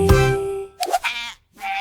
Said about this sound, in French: Les moutons marchent avec fierté.